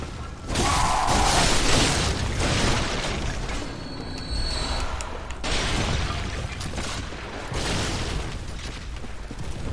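A cannon blast in Bloodborne sets off a loud, sudden burst of broadband roar that rumbles on and fades, followed by more dense, noisy game sound.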